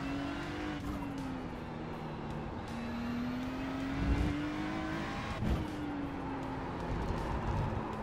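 A race car in the iRacing sim game drones with a steady engine whine, then spins out with tire squeal and a couple of thumps as it hits the wall.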